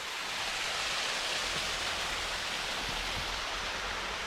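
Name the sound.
waterfall cascading down into the River Ros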